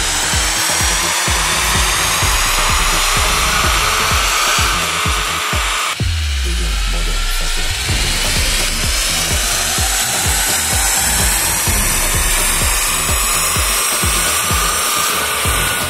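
A Volkswagen MK8 GTI on a Stage 1 tune with 93 octane fuel roars through dyno runs, loud and continuous, with a brief break near the middle before the engine climbs again without any talk.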